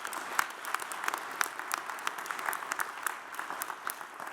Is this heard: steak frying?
no